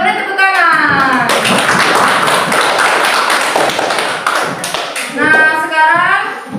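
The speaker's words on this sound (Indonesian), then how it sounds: "Beri tepuk tangan." Applause in a classroom, a burst of brisk clapping from many students lasting several seconds, with a voice speaking before and after it.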